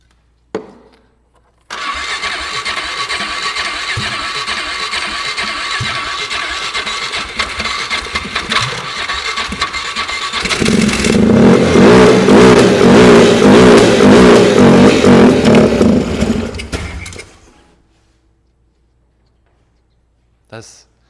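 A broken UTV engine cranks over, catches and starts, settling into a rough, louder running roar for several seconds before cutting off into silence; no talking over it.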